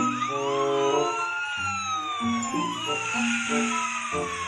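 A toy fire truck's wailing electronic siren sweeps up and down against a looping, stepped melody of beeping tones, steady and moderately loud throughout.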